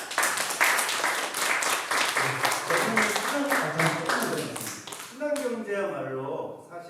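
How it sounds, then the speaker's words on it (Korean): An audience applauds at a cinema talk during a village film festival in Gimpo, the dense clapping filling the room for several seconds before a voice speaks over the fading end. "박수 한번"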